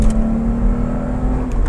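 Volkswagen Golf VR6 with its six-cylinder engine holding a steady, loud drone that climbs slightly as revs rise, heard close and continuous from start to finish.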